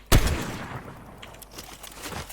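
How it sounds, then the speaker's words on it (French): A sniper rifle shot fires in a video game, one loud sharp blast at the start trailing into a reverberant tail, with faint gunfire further off afterward. "Dites-moi si mes balles de snipe elles sont bien ou pas."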